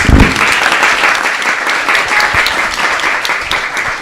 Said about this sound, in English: let's give a big round of applause to Ramona